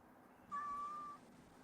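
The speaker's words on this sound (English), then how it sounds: "I just realized it was the cat meowing" A cat gives a single thin, drawn-out meow outdoors, faint and somewhat distant over quiet background hiss, lasting under a second.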